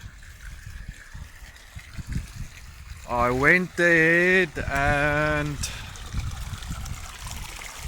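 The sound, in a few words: water trickling into backyard aquaponics grow bed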